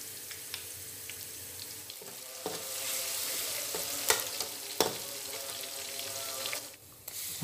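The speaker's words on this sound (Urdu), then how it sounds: "پیاز ہمارا براؤن ہو چکا ہے، اس میں لہسن ادرک کا پیسٹ 1 چمچ ڈالیں گے۔" Garlic ginger paste hits browned onions in a hot pan, giving a steady sizzle and frying hiss with a few stirring knocks and clinks, fairly close and moderate in level.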